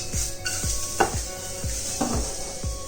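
Grated coconut being stirred and tossed in a hot pan as it browns for a mutton xacuti, with a steady soft sizzle and a regular series of scraping, clattering spoon strokes against the metal, close up and with no talking.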